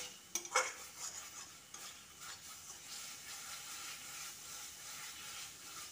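Masala mixed with yogurt frying on a high flame for egg biryani, heard as a soft, faint sizzle beneath intermittent spoon scrapes and light clinks against the pot.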